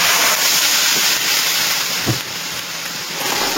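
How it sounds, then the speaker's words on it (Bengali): Ginger and green chili paste being stirred and fried in oil for a papaya and shrimp ghonto: a loud, even hiss close up, with one soft thud partway through. "আদা আর কাঁচা লঙ্কা বাটা তেলে একটু নাড়াচাড়া করে কষিয়ে নিচ্ছি।"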